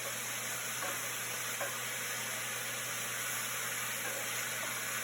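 Ground meat frying in a hot pan while being pushed around and broken up for loaded nachos, a steady close sizzle with occasional faint scraping, no talking.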